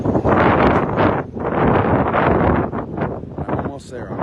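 Strong outdoor wind buffeting the microphone in steady loud gusts, with a voice talking over much of it.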